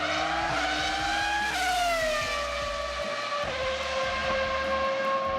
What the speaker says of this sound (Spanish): un V10 que desarrollaba más de 900 caballos de potencia y que tenía un sonido espectacular